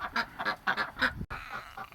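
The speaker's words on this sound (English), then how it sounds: "The quacks mean yes?" Several ducks quack in quick, nasal bursts, about five or six honking calls close by, followed after a brief knock by a softer, steadier quack.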